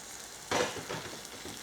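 Green chillies and garlic frying in a pan: a sudden close sizzle flares up, then settles into softer crackling and bubbling.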